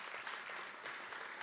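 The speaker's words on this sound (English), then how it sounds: "See, you all know Renee, so you're clapping." An audience claps at an awards ceremony for community green blocks at Brooklyn Borough Hall, a dense, even wash of many hands applauding throughout the brief moment.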